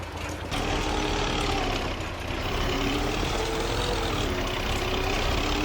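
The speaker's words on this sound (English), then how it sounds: "This tractor sucks" A struggling tractor in Farming Simulator 25 drones steadily at a heavy, low idle-to-working rumble, loud and continuous, with a brief dip near the start before the engine note settles and holds.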